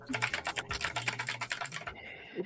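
Rapid clacking of keys on a computer keyboard, a steady burst of close typing for about two seconds, then it stops.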